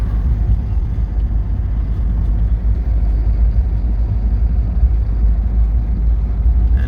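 A 1983 Porsche 944 engine lugging at low RPM in 4th gear while cruising, heard as a loud, steady, deep rumble with road and cabin drone and no change in pitch.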